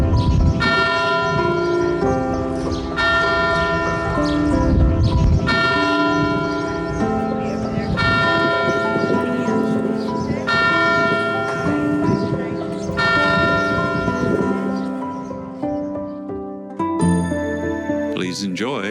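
Church bells ring from a bell tower in the wine village of St. Emilion, a loud repeated pealing with rich ringing overtones that keeps sounding for most of the stretch and fades out near the end.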